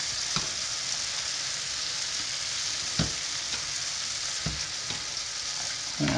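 Bacon sizzles and fries in a hot pan for spaghetti carbonara, a steady loud crackling hiss broken by occasional scraping clicks of stirring, close up, with no talking.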